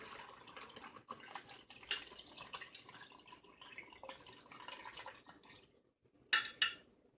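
Homemade apple cider vinegar trickles and drips steadily into a container for several seconds, followed by a couple of brighter splashes near the end; close and fairly quiet.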